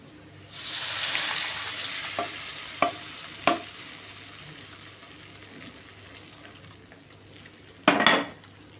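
Sweet potato chutney with mustard seeds and cumin in oil is stirred in a pan, giving a steady close sizzle broken by a few sharp utensil clinks and a louder scrape near the end.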